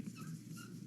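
A dog gives a soft, brief whimper, a faint high whine close to the microphone that lasts under a second.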